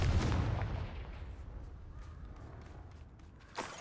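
A Confringo fire spell in Hogwarts Legacy lands as one heavy, booming blast up close, its low roar swelling at once and fading slowly over several seconds, with a sharper small crack near the end.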